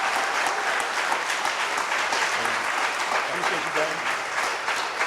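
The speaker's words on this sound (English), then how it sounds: "one more round of applause for our superintendent, Antoine Wilson." An audience applauds a school superintendent at an event on raising graduation rates for boys of color, a sustained, even wash of many clapping hands with a few faint voices beneath.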